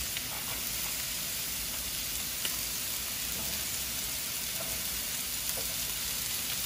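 Garlic sizzles steadily in a hot pan alongside ribeye steak, giving a close, dense hiss with faint crackles and pops throughout and no talking.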